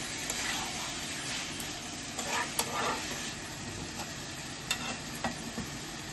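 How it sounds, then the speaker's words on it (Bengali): Chicken cooking in a little oil in a pan for chicken kosha, a steady low sizzle with occasional scraping stirs, moderately quiet and close, no speech. "অল্প তেল দিয়ে আমি রান্না করছি, যাতে সবাই এটা খেতে পারে।"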